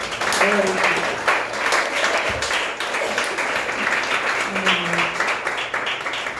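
A church congregation claps for Jesus after a prayer blessing a missionary, steady applause running throughout with voices and some tonal sound mixed in over it.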